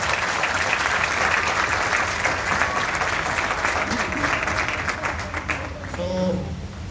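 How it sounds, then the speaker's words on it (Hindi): Applause from a church audience at a Christian preaching event, with steady dense clapping filling the whole stretch and a few raised voices mixing in near the end. "जोरदार ताली बजाएं।"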